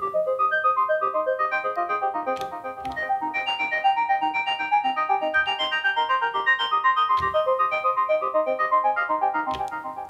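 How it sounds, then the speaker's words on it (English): A bright arpeggiated synth pattern from an Elektron Digitone preset named Lydiamorph, rapid cycling notes repeating steadily with occasional percussive clicks, continuous and alone at moderate level. "Okay, the next one is called Lydiamorph, and it's an ARP, and it sounds like this"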